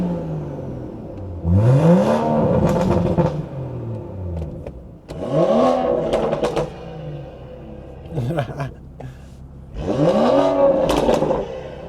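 BMW B58 engine with a stage 2 exhaust revved hard three times, each rev sweeping up and falling back with crackling, under some talk.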